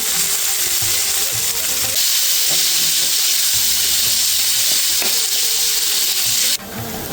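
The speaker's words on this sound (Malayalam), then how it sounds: "നല്ല ഉണക്കമുന്തിരി, ഈന്തപ്പഴം അരച്ചതും കൂടെ നെയ്യിൽ വഴറ്റിയെടുക്കും" Raisins and ground dates sauté in ghee with a loud, continuous close sizzle and hiss, a steady frying sound that drops off abruptly near the end.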